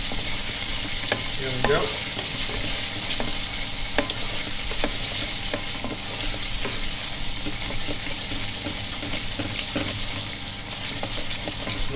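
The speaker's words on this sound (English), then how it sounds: "we're going to saute it a little bit till the raw flavor of ginger garlic paste goes away" Ginger garlic paste sautéing in a pan for butter chicken, a loud, dense sizzle with regular stirring scrapes throughout and a brief spoken remark near the start.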